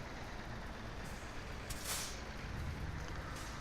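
Air brakes on a heavy 75-tonne truck in Euro Truck Simulator 2 are applied hard on a snowy downhill, giving short bursts of hissing air over a steady engine and road rumble, with no one talking.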